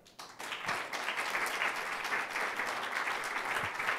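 A crowd at a lucha libre wrestling event applauds to welcome a wrestler, a full burst of clapping that rises quickly and keeps going steadily for several seconds.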